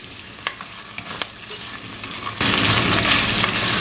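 Ingredients for a drumstick and shrimp kulambu fry in a pan with a soft sizzle and a few stirring clicks, then the frying swells into a loud, dense hiss partway through, with no voices.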